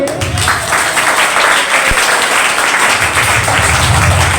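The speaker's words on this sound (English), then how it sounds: "Equality, clap for him." A school debate competition audience claps in steady, loud applause that fills the whole span. A brief thump lands partway through.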